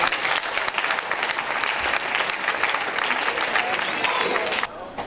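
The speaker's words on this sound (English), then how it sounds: "This is another round of applause for him." Audience applause at a space agency headquarters event in Abuja, a dense sustained burst of clapping lasting nearly the whole stretch, then abruptly thinning to quieter scattered claps at the end.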